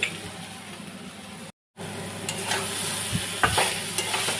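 Cumin, turmeric, chilli powder and salt frying in hot oil in a pan with green chillies, stirred steadily; a continuous close sizzle with scraping spoon strokes, alone with no talk.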